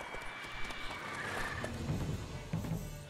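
Horses in The Witcher 3 video game, with rhythmic clip-clop hoofbeats running steadily throughout and a whinny mixed in, fairly loud with no talk over them.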